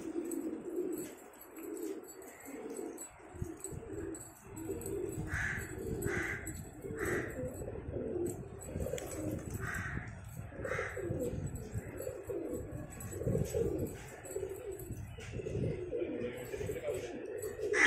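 Pigeons in a breeding loft of colorful racing and rare breeds coo in repeated low throaty bursts, with birdcalls scattered throughout and someone speaking over them.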